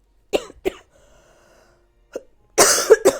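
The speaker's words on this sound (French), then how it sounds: "Je suis vraiment désolée de tousser dans les oreilles comme ça" Several sharp coughs, two short ones, then a quieter one, and finally a louder burst of coughing close to the microphone.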